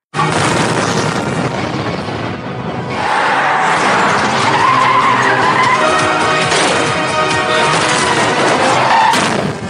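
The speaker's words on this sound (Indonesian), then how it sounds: "Rahul berhasil kabur bersama Minama menggunakan mobil kesayangan Dugeswara. Semua anak buah Dugeswara mengejar Rahul" Tires screech in a long, loud skid during a car chase in an Indian action film, with engine roar and a dense, continuous mix of chase effects running the whole time without pause.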